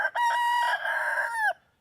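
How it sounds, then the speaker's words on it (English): A single loud rooster crow, close by, one sustained call lasting over a second before cutting off. "Samson the Death Layer Rooster and his 4 hens."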